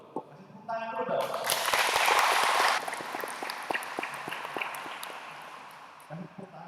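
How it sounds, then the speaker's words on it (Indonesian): A seated audience bursts into applause, a loud swell of clapping lasting about a second and a half that then cuts off, with a voice speaking briefly before and faint sounds afterward. "Kasih tepuk tangan dulu dong"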